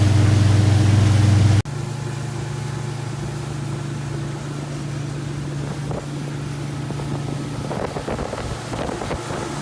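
A center console boat's outboard motor runs steadily on the water, a droning hum with a loud opening burst that drops to a lower, even idle, wind buffeting the microphone throughout and faint knocks near the end.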